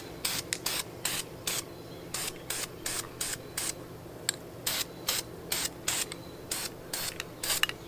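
Aerosol spray paint hisses in short repeated bursts, about a dozen quick sprays with brief pauses, as light coats go onto a Mini Cooper brake duct inlet; no one talks.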